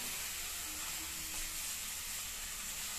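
Chicken dropped into a hot wok sizzles with a steady, quiet hiss that holds evenly for about three seconds, with no voices.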